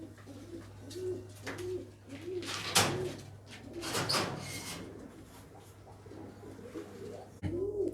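Pigeons coo repeatedly at close range while pecking at mustard seed, with a low steady hum beneath, a sharp clatter near the middle and a brief knock at the end.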